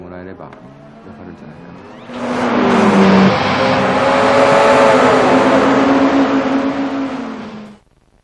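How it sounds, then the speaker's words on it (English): A racing car engine in Gran Turismo 3 roars up loudly and holds a high, whining rev with wind, road and tyre noise before cutting off abruptly. "We managed to reproduce wind noise this time and road noise, the sound of the tyres moving across the road surface."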